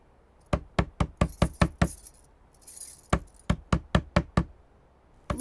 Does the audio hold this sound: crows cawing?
no